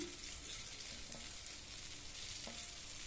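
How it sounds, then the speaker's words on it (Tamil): Boiled rice flour balls drop into a hot tempering and sizzle softly and continuously, with a few light scraping stirs over the short stretch and no voices. "ஸ்டவ் சிம்ல வச்சுட்டு வேக வச்ச பால்ஸை இதுல சேர்த்துடலாம்"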